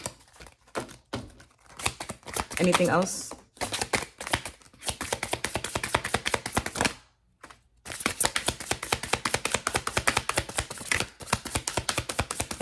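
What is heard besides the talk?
shuffling a tarot card deck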